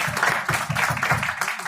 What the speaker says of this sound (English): Can you give him another round of applause for that?